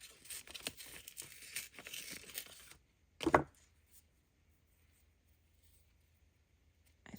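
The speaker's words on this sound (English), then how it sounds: "We're going to rip it up." Paper ripped up by hand, with rustling and handling at first, then one short, loud tearing rip up close, followed by near silence.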